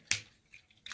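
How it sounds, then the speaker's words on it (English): A Transformers Siege Voyager Class Megatron action figure's foot joint clicks: two sharp, faint plastic clicks about a second apart with a softer tick between them, close up in a quiet room. "there's this feet that keeps clicking"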